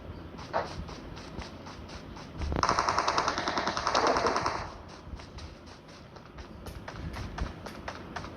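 Machine gun fire in a shooting video game: a sustained loud burst of rapid automatic shots lasting about two seconds, with scattered single shots and footstep-like taps before and after, at moderate distance.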